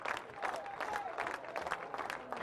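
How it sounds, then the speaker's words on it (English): Baseball crowd at an NCAA game in Raleigh clapping in unison with a two-strike count, a rhythmic wash of many hands mixed with general crowd noise and a faint whistle, spread across a large stadium. "The crowd here in Raleigh gets the clap going."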